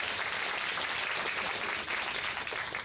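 An audience claps steadily for a panel member at an expert panel event, a dense continuous patter of many hands at moderate distance lasting a few seconds.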